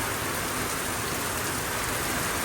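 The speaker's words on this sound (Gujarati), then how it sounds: "અત્યારે વરસાદ સારો આવે છે" Dense, even rain hisses constantly, a close steady wash of drops hitting surfaces with no pauses and no voices.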